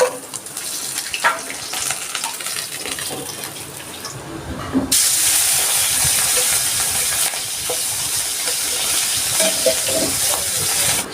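Small fish frying in a pan and being turned over, for a water spinach dish, a loud steady sizzle that swells midway, with stirring and scraping sounds close up.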